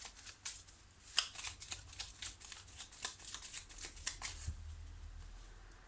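Tarot cards being shuffled for a reading, a soft, close riffling flutter with quick papery snaps and taps running steadily for several seconds.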